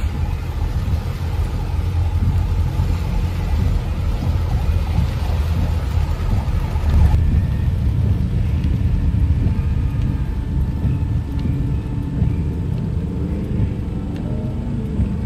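Heavy road traffic crawls through pouring rain in Metro Manila, on a street with gutter-deep floodwater. A loud, steady rumble of engines and rain runs unbroken throughout, with no one speaking.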